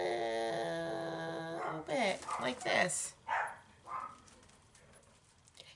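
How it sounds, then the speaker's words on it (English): Several dogs bark in short, irregular bursts somewhere in the background of a home while someone talks close to the microphone, the yaps fairly faint and scattered through the second half. "If you hear my dogs in the background,"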